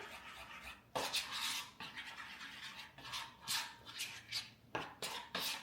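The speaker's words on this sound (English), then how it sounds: "let's give that a stir" A no-bake peanut butter bar mixture being stirred in a bowl, giving repeated scraping and rubbing strokes in irregular bursts, close and moderately loud, with no talking.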